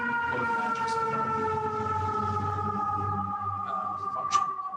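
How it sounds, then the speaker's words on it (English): An emergency vehicle siren wails outside in New York, a steady, loud tone that holds throughout beneath light street noise. "The siren is drowning you."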